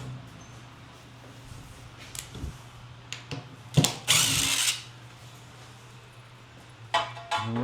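A screw is backed out of an oak coffee table with a power driver in short whirring bursts and clicks. A low steady hum sits underneath, and one louder burst comes midway.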